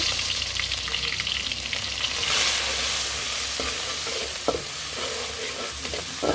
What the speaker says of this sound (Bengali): এদিকে তেল গরম হয়ে আসছে, আমি এখন পেঁয়াজ কুচিগুলো দিয়ে দিব